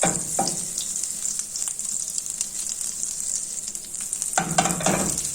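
Butter with a spoonful of olive oil sizzling in a hot pan, with a bright steady hiss throughout, close and fairly loud, and a few stirring knocks at the start and near the end.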